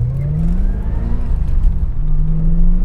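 A Chevrolet C4 Corvette that had sat undriven for about a year, its engine revving hard while being driven, a loud continuous rising and falling drone with no voices.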